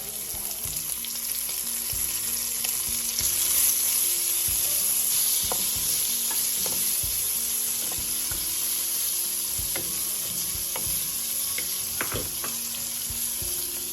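Shallots fry in oil in a pot with a steady bright sizzle, punctuated by scattered clicks and stirring knocks from a utensil over about fourteen seconds, close and fairly loud with no talking.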